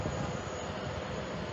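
A Qatar Airways jet airliner taxiing at JFK airport gives off a steady, loud broadband engine roar and rumble that holds evenly, with no voices.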